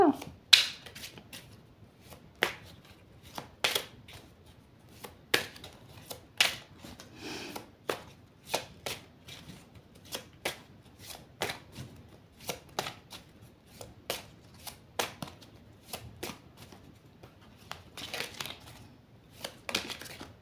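Oracle cards shuffled by hand in a quiet room, a run of crisp, close riffling and tapping bursts repeating at irregular intervals for about twenty seconds, with soft background noise and no voices over it.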